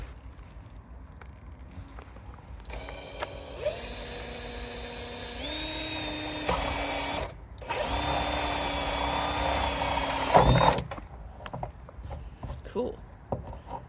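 A power drill boring a hole through a plastic water butt at an allotment shed, two sustained whining bursts of several seconds each with a short pause between them and quieter surroundings before and after.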